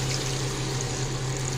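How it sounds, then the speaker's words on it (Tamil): Water pours into a pan of crab curry with a steady, continuous rushing splash that holds at the same level from start to finish, with no voices. "இதில் வந்து தண்ணி சேர்த்துக்கலாம்."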